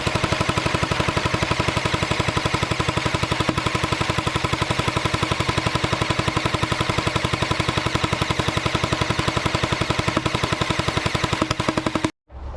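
Airsoft Gatling gun loaded with heavy BBs firing one long sustained burst, a dense rapid rattle of shots at a steady rate, loud and close, cutting off abruptly near the end.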